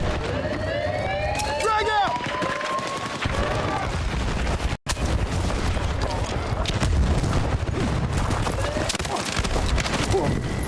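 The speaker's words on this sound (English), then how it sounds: "I shot him in the back with a sniper rifle." Sniper rifle shots in the video game PUBG, sharp cracks scattered through a dense, continuous wash of battle noise with sweeping whistle-like tones, a brief dropout midway, and muffled voices underneath.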